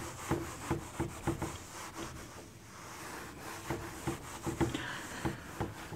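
Chalk or marker writing being rubbed off a classroom board during a speed, time and distance lecture: repeated brisk scrubbing strokes in a steady back-and-forth rhythm, fairly close and loud, with no talking.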